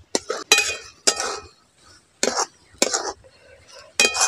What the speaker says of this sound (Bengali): এই ফুলকপিটাকে নাড়াচাড়া করে একটু ভেজে নেব